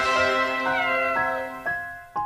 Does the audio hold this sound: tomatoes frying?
no